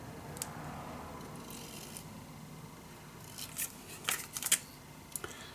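Scissors cutting paper for a mini album, a faint background hum broken by a few quick, close snips and crisp clicks clustered toward the end.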